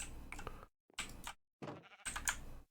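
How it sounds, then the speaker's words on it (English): Minecraft sheep bleat in a few short, separate cries with brief silences between them, close and clear, with soft clicking mixed in and no voices. "Sheep."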